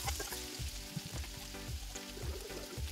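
Ginger and garlic sauté in hot oil in a pan for beef pastil, giving a steady, close crackling sizzle with bursts of popping and a few stirring sounds throughout.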